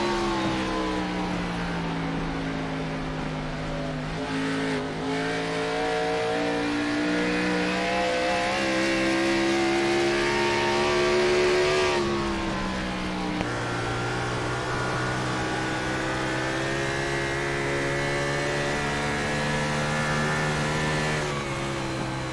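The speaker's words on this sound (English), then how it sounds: "The Ford sounds sick." A Ford stock car engine races at Rockingham in an iRacing throwback series, droning loud and steady, rising and falling as it shifts and revs through corners, with no talk over it.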